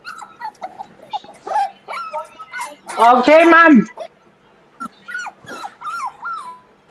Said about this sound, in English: Whose little doggy is that?